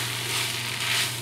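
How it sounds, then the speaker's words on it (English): Chilies and onions sizzle loudly in a hot pan while sautéing, a dense steady crackling hiss heard up close without any voices. "I'm gonna throw these chilies in with these onions here. Give those a stir."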